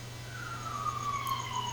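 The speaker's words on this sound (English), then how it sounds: "Sirens." An emergency siren wails outside, a long drawn tone sliding slowly downward at moderate distance over a low steady hum.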